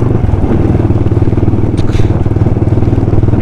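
A motorcycle ridden along a rough shortcut road, its engine a steady close drone with continuous low rumble and faint clatter throughout.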